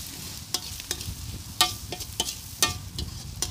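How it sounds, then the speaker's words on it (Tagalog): Ingredients for a soup sautéing in a pan, with a soft sizzle under repeated scraping and stirring strokes at an uneven rhythm, close and fairly quiet, with no talk. "Gigisa lang natin."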